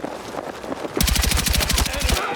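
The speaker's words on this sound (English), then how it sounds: "Under heavy fire!" Automatic weapon fire in the Battlefield 6 night raid mission: a fast, even burst of loud rapid shots that starts abruptly after a moment of quieter combat noise and a voice, then stops just before the end.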